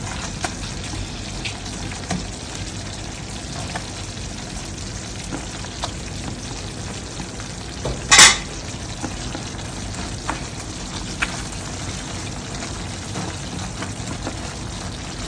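Chicken pieces for chicken piccata sizzle steadily in a pan, a constant fine crackle with one brief louder hiss midway, no voices.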